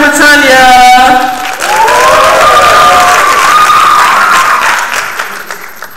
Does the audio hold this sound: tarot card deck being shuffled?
no